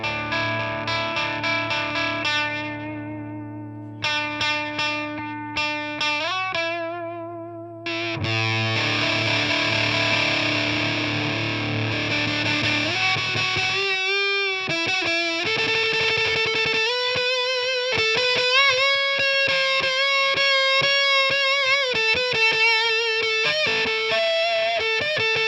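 Dystopia delay effect plugin produces a heavily distorted, gritty sustained texture: layered tones that shift and pitch-bend, with repeating echoes and stuttering swells over a steady loud bed, no voices.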